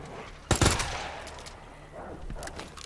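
A submachine gun in Resident Evil 2 fires a sharp, loud burst of a few quick shots, followed by a quieter stretch with faint, scattered later reports in the game's background.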